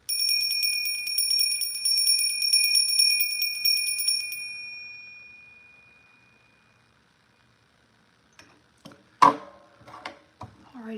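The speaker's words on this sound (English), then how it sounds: "Ring the bell just a little bit." A small hand bell rings out steadily with bright, sustained metallic tones for about four seconds, then fades to silence, early on a morning; a few faint knocks and handling sounds follow near the end.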